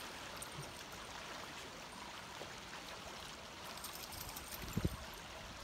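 A creek flows along a trail in Alabama's Sipsey Wilderness, a faint, steady wash of running water with a couple of soft splashes near the end.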